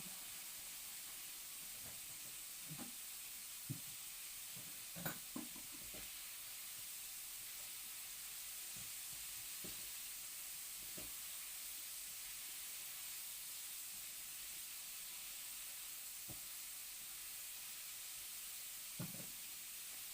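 Frozen chicken popcorn deep-frying in oil: a steady, faint sizzling hiss throughout with occasional soft pops and clicks, no talk over it.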